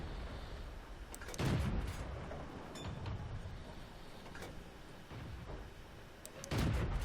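Tank cannon fire from a T20 medium tank in the video game World of Tanks, two heavy booming shots several seconds apart over a rumbling battlefield backdrop, with a few lighter distant impacts in between.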